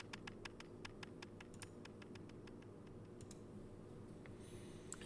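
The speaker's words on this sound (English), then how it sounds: "Typing noises." Rapid keyboard typing on a computer terminal in the video game Ever17, a steady run of light clicks over a low ambient hum, fairly faint, with a few sparse taps toward the end.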